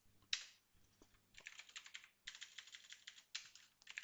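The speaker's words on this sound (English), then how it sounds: "Let me open the terminal, type some" Someone types a command on a computer keyboard, giving quick bursts of close, crisp key clicks separated by short pauses, quiet and alone.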